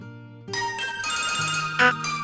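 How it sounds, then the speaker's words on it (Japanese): A phone ringtone plays as an electronic melody of bright chiming tones, steady and fairly loud for about two seconds, with no talking over it. "電話だ。"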